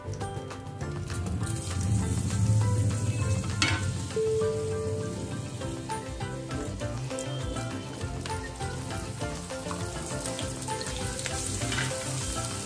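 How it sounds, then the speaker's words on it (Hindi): Taro (arbi) chips frying in hot ghee in a pan on a gas stove, a steady dense sizzle with crackling pops throughout, close and continuous. "अब हमारे ये अरबी के चिप्स तलकर तैयार हो गए हैं, करारे हो गए हैं"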